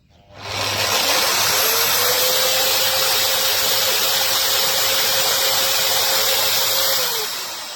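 A MAXXT foldable drywall sander with dust extraction switches on and runs at a steady, loud motor whine with a constant droning hum, then begins to wind down at the end.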